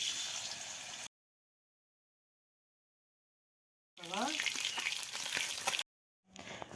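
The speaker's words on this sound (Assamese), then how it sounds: "মাছৰ পিচকেইটা ধুনীয়াকৈ ভাজি ললো" Fish pieces rubbed with salt and turmeric fry in a pan, giving a bright steady sizzle that runs in separate stretches broken by silent gaps, close and moderately loud.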